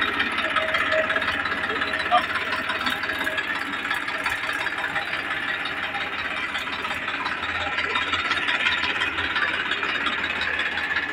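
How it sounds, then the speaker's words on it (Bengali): A Tafe 7250 DI tractor engine runs steadily at a close, loud level, with a mechanical clatter over its throb and people talking over it. "ইঞ্জিনের কিন্তু মিষ্টি সাউন্ড"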